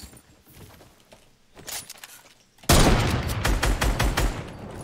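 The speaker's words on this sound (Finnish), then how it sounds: "Tää äijä yritti äsken ampua mua" Fortnite gunfire crackles in scattered bursts at first, then a loud, dense volley erupts midway and continues in quick repeated shots to the end.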